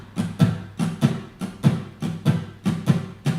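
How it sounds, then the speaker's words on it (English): Acoustic guitar strummed in a galloping shuffle rhythm on two chords, with steady down-up strokes in evenly spaced pairs, close and clear with no talking. "A shuffle rhythm, using the same example, would sound like this."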